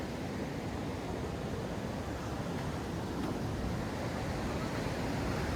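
River water flowing into the sea at Kondura beach near Vengurla, its waves washing up onto the sand; a steady, close, broadband wash with wind noise and no break, no voices.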